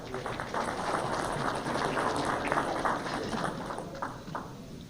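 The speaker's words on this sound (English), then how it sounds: "Round of applause for Drew." Audience applause for Drew Deaver, a steady, moderately loud spatter of many hands clapping in a room, without a clear rhythm and holding evenly throughout.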